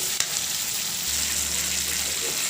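Ginger garlic paste fries with tomatoes in a hot pan, giving a steady close hiss of sizzling oil with a brief clatter near the start and no voices.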